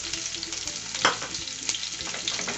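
Onion tipped into hot oil already holding garlic, chilli and cumin for a parwal bhujia gives a steady close sizzle, with stirring taps and a sharper hissing burst about a second in.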